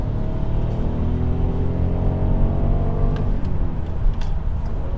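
A Ford Focus Turnier ST-Line estate with an EcoBoost mild-hybrid engine accelerates hard in second gear on the autobahn, its engine note climbing steadily in pitch over a constant road roar, loud and close from inside the car.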